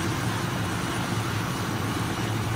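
Helicopter in the video game Modern Warfare, a steady loud rotor and engine roar heard from inside the cabin, continuous and alone throughout.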